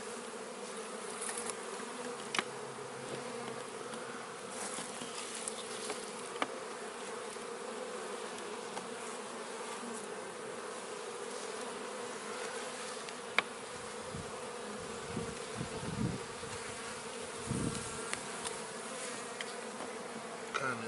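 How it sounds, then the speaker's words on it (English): Dense, steady buzzing of many honeybees close by during a hive transfer, a continuous drone with occasional louder passes as individual bees fly near, the bees growing agitated. "You can hear the bees getting louder and louder now."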